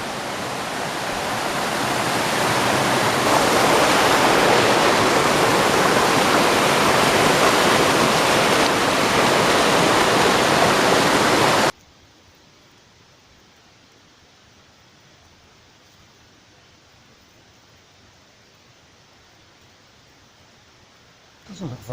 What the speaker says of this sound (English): what appears to be the waterfall onto the other side